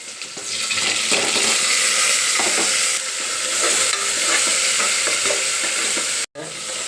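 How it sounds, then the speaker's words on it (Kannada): Onions frying in a pan in a home kitchen, with garlic added, sizzle with a loud, steady hiss that fills the whole clip, along with scraping stirring strokes and one brief break near the end. "ಒಂದು 2 ನಿಮಿಷ ಉಳ್ಳಾಗಡ್ಡಿ ಫ್ರೈ ಆಗ್ಯಾವ್ರಿ"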